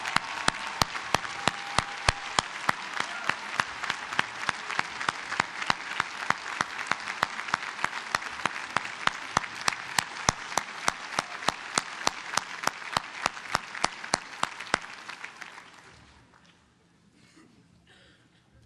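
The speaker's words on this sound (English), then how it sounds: "please stand and accept a round of applause for all that you have done to bring them to this day" Parents of law school graduates are applauded at a commencement ceremony, a long sustained round of clapping from a large crowd with a few loud close claps standing out, fading away near the end.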